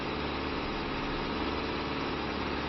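A Ford TW35 tractor in Farming Simulator 25 pulls a Rabe plough, its engine giving a steady, loud, unbroken low drone throughout.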